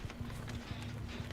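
A character's running footsteps in the Dead by Daylight video game, a quick regular series of soft thuds at a moderate distance over faint background game ambience.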